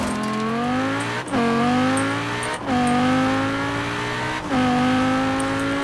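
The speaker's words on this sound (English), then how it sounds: "Gorgeous engine sound." A Lamborghini Superleggera's engine revs hard in Forza Horizon 4, with its pitch climbing steadily through three gears, a brief dip at each upshift, and the engine loud and close throughout.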